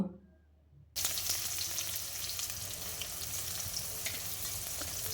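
After a second of near silence, whole cumin and chopped onion hit hot oil in a pan for mutton curry, bursting into a loud, dense, continuous sizzle with crackles and stirring scrapes.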